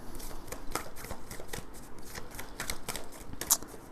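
Tarot cards being shuffled and drawn, a run of quick riffling flutters and soft slaps at close range, steady and crisp, with no talking.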